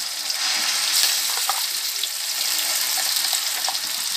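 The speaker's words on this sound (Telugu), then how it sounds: "ఉల్లిపాయ ముక్కలు ఇలా వేగినాయి. ఇంకొంచెం వేగనిద్దాం." Onion pieces fry in a pan for a home-style fish curry, a continuous bright sizzle with a few soft clinks of stirring, close and fairly loud throughout, with no talking.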